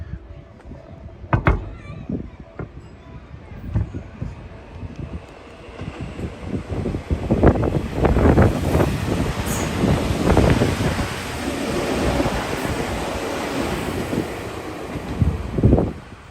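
Wind buffets a phone microphone on a gimbal during an outdoor spring walk along the Tamagawa near Todoroki Ravine in Tokyo, with irregular low roaring gusts that swell and build into sustained rumbling near the mic.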